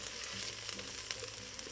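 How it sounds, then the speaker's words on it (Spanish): Onion sautéing in a pan gives a soft, steady sizzle with faint crackles and light stirring, quiet and continuous. "Agregamos nuestra cebolla y vamos a mantener aquí hasta que esté bien acitronadita."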